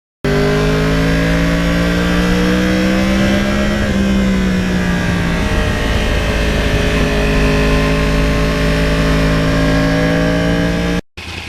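A 2020 Yamaha R1 Crossplane motorcycle under way on a ride, its engine loud and close with a steady roar, the pitch rising and dropping through gear changes and revs, with no talk.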